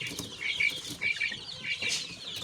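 Young chicks peeping in short high bursts, with a few soft clucks and rustles nearby, close and fairly quiet.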